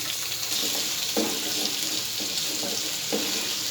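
Thin daikon radish slices frying with mustard seeds in a pan, a steady close sizzle with a few soft utensil knocks and stirs, no voices.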